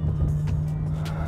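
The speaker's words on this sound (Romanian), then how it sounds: "se aude motorul acesta W16 de 8 litri, se aude incredibil de tare" A Bugatti Chiron with an 8-litre W16 engine driving, giving a loud, steady low engine drone with a constant hum, brief higher whooshes passing over it, no voices.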